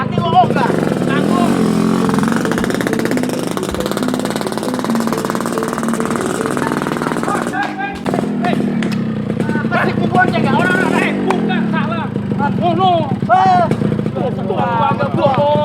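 A motorcycle engine runs steadily at close range with a buzzy, idling drone, while voices talk and shout over it in the second half.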